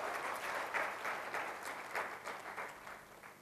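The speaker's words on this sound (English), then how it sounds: "Big round of applause." Applause from a conference audience at an opening talk, a continuous crowd of hands clapping at even strength throughout, moderately loud and without speech.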